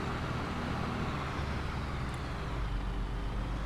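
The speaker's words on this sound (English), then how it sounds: "just park the tractor in this spot for now." Tractor engine idling and rumbling steadily at a farm while it is parked, a continuous low, loud drone with no talk.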